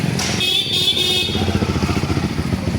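An adventure motorcycle idles and revs close by in a busy city street, its engine throbbing in a steady pulsing rhythm, with a brief high horn toot from nearby traffic early on.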